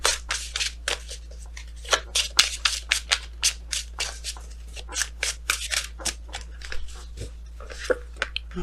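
Tarot cards being shuffled in a steady run of crisp riffling flicks, close and fairly loud, with no talking.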